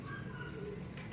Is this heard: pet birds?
yes